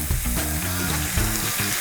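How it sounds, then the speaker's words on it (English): Meat frying fat side down in a hot pan gives a loud, steady sizzle and crackle that runs through the whole stretch with no talking. "Y'all ready for that sizzle?"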